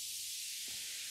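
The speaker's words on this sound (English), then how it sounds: "I've just got these white noise downlifters." White noise downlifter effect in an organic evolving techno track: a bright, steady hiss of filtered noise with a brief low thump partway through, quiet overall.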